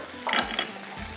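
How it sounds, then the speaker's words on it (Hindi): Vegetables for a one-pot vegetable rice fry and get stirred in a pot, giving a brief burst of sizzle and scraping that fades back to a low steady hiss. "इसको थोड़ा सा मैं पका लेती हूँ, हल्का सा फ्राई करना है। चलिए इसको थोड़ा हम फ्राई करते हैं।"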